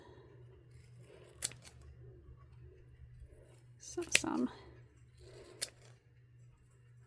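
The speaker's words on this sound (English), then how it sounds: "I have used my poor scissors for everything." Slightly dull scissors snip paper a few times, sharp crisp cuts spaced apart, with a quiet voice and a soft background hum.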